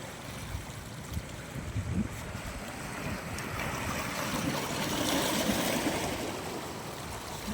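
A steady breeze mixes with waves washing along the shore. The sound is a continuous broadband rush that swells slightly toward the end, with no voices.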